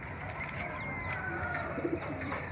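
A breeding pair of pigeons gives soft, low coos close by, a gentle continuous burbling with a couple of slightly louder notes near the end.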